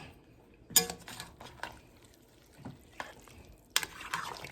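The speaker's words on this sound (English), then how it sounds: "And let's give this a stir." Stewed chicken with stock stirred in a pot, scattered clinks and scrapes of a spoon against metal with a faint bubbling in between, close but quiet.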